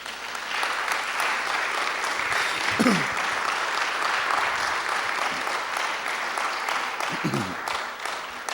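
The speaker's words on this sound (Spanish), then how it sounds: "Le damos un aplauso a Dios." Congregational applause fills a church service, a steady, dense wash of clapping from a gathered audience that holds from start to finish, with a few brief voices breaking through now and then.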